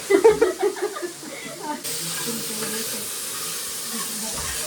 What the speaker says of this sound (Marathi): फायर स्टाईल मध्ये मम्मी पनीर भाजत आहे.